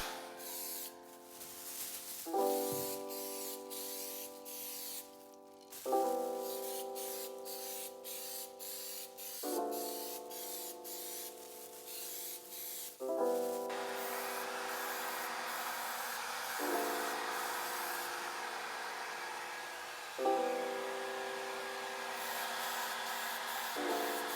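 Aerosol spray coating is applied in repeated bursts during repair of a large gouge in furniture, a long steady hiss broken into several passes of a few seconds each.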